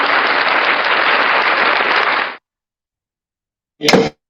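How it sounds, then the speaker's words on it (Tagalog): An audience at a Father's Day singing event claps steadily for about two seconds, then stops abruptly; after a pause a brief loud clatter or burst follows. "Ayan, palakpak."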